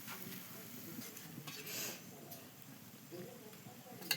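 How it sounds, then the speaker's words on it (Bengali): Fish frying in a pan in a home kitchen, a faint, steady sizzle with occasional stirring and scraping, heard under nearby conversation. "একদম লাল লাল করে ভাজছে কাকিমা।"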